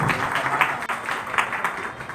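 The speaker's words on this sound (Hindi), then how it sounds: "बार जोरदार तालियों से स्वागत करें।" An audience at a book launch event welcomes the Deputy Chief Minister of Bihar to the stage with continuous crowd applause, a dense, steady clapping that swells slightly in waves.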